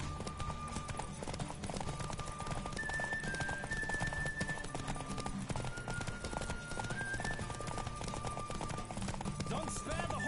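A horse galloping in a horse race in the video game The Witcher, rapid steady hoofbeats throughout over tonal game music, with a brief voice.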